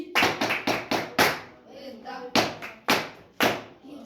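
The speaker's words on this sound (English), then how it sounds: "Clap hands for Samuel now." A middle school class claps for a student who answered correctly, a few sharp, rhythmic rounds of clapping close by in distinct bursts, with a brief gap and a voice between them.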